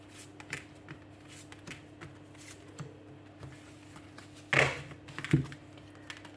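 Cartomancy cards are drawn and laid out on a surface, soft scattered card flicks and taps, faint and close, with a couple of louder slaps near the end.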